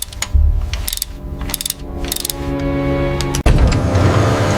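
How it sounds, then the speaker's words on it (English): A torque wrench ratchets and clicks in repeated bursts while tightening the cylinder head of a Rolls-Royce 20/25 engine during restoration, close and loud, with metallic mechanical tones running underneath and a sharp final clack. "Torque wrench clicks through the sequence."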